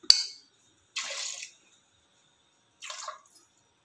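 Water splashing into a pot in three short bursts, as for boiling palm tubers in a Tamil kitchen, close and fairly loud with quiet gaps between pours and no talking.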